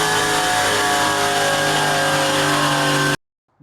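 Car engine revving hard on a dyno at 20 degrees of ignition timing: a loud, sustained droning roar with strong steady harmonics, then cut off abruptly into silence.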